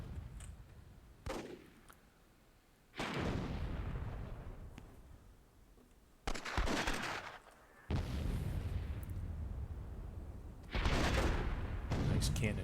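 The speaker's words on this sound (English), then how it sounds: "Nice cannon shot there." Several heavy booming blasts of cannon fire in the video game Myth II: Soulblighter, each a sudden loud burst that rumbles and fades, spaced a few seconds apart amid battle noise.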